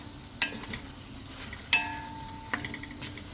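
Chicken tenola with whole black pepper gets stirred in a pot: a few scattered scraping and clinking strikes of a utensil against metal over a faint sizzle, fairly close and sparse.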